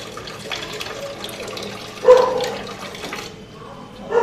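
Water runs and splashes into a cooking pot in a home kitchen before rice is added, a modest, uneven pour with a brief louder gush partway through.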